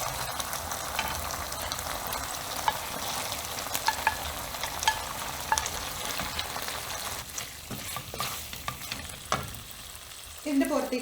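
Beef stirred into a thick, rich Mongolian sauce in a frying pan gives a steady low sizzle with scattered soft scrapes and clicks of stirring, ending in a brief louder bubbling burst.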